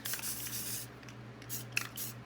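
Short bursts of a spray paint can misting registration squares on a cut name stencil, several quick hisses close up and fairly faint, with no talking.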